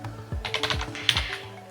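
Quick bursts of computer keyboard typing and mouse clicks, close and fairly quiet, in an irregular clattering rhythm with short pauses.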